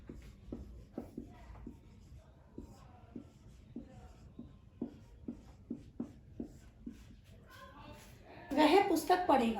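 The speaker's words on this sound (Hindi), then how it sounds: "मैं यहां लिखती हूं" Handwriting during a Sanskrit translation lesson: a steady series of soft, close scratching strokes repeats at an even pace, then a voice begins speaking at the end.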